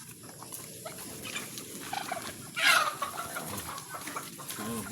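Chickens and ducks clucking and calling at feeding time in a noisy farmyard, with one louder squawk near the middle over a steady background din.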